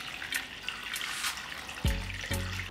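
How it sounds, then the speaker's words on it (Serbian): Water running from a tap and splashing into a pot that holds jars of meat, a steady close rush with a couple of clunks near the end. "Evo dokle sam sipala vodu"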